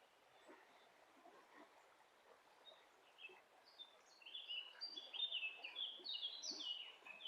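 Gentle flowing water murmurs underneath while birds chirp and trill, growing busier and louder in the second half.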